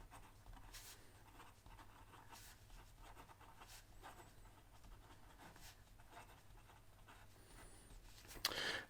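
A Venvstas Carbon T fountain pen with a broad nib writes on paper, giving a faint, steady scratching with soft periodic strokes, close and quiet, ending in a brief louder rustle.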